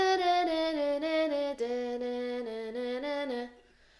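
Guitar riff from the bridge of a song, a melodic line of single picked notes stepping through a repeating pattern with steady rhythm, played clearly and alone before fading out at the end.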